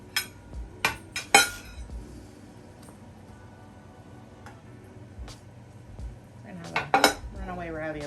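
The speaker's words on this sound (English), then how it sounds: "So now we're gonna go ahead and get a slice cut and put on the plate" Cutlery cuts into a three-cheese ravioli lasagna and plates a slice, with sharp clinks and scrapes of metal on dish in bursts at the start and again near the end, separated by a quieter stretch.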